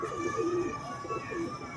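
A Karachi high-flyer pigeon coos in soft, repeated low bursts close by, layered over a steady hum of background noise, with no speech over it.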